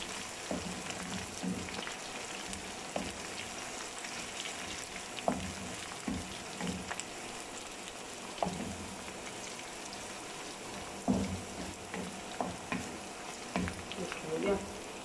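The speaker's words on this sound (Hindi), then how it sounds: "अब इसमें चाय का चम्मच अदरक डाल देंगे। थोड़ा सा भून लेंगे" Chopped ginger fries in oil in a pan for a taro curry, giving a steady close sizzle with small crackles and pops that runs without pause throughout.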